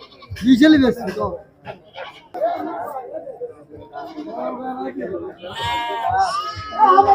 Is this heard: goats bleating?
yes